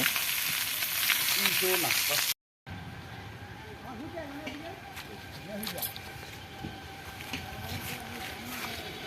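Fish fries in oil over a wood-fired clay stove, a continuous crackling sizzle under nearby conversation, broken briefly by a moment of silence.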